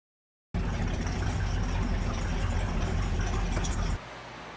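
A big-block Cadillac V8 of 472 or 500 cubic inches idles through nearly straight pipes, with a loud, steady, rumbling burble that holds evenly and then drops quieter near the end.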